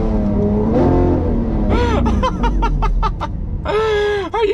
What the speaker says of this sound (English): show you what this absolute beast sounds like